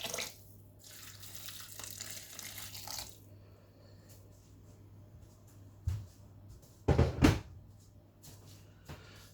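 Boiling water pours into slow cooker dishes during early-morning prep, a quiet splashing stream at the start, then soft clinks and a brief louder clatter, close by and with no talking.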